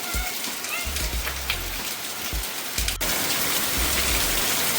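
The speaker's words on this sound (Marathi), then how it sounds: "पाऊस बघा कसा बेकार पाऊस" Heavy rain pours down steadily, a dense, loud hiss of drops pattering on surfaces close by, with a low rumble underneath and one sharp click.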